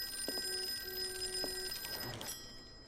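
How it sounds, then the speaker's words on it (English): An old telephone rings in the Call of Cthulhu video game, a short electric bell trill among steady tonal background hum, moderately faint with no speech. "We turn off the radio, now the phone starts ringing."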